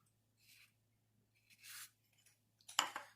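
Quiet, close snips and slides of scissors cutting material, a few separate strokes with soft pauses between them.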